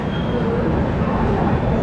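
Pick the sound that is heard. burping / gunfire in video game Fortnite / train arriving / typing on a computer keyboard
train arriving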